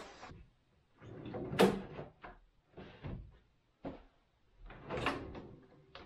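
A wooden drawer slides in and out of a mobile storage workbench, several close scraping, rumbling runs with sharp knocks as it seats in a tight fit, with no talk.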